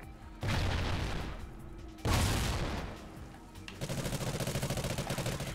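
Gunfire in Call of Duty Ghosts: two heavy, booming shots that ring out and decay, then a fast, steady rattle of automatic fire, loud and close with no talking.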